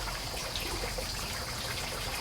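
Water drains slowly through potting soil in a plant pot, a soft, continuous trickling and faint bubbling hiss heard up close, quiet and steady throughout.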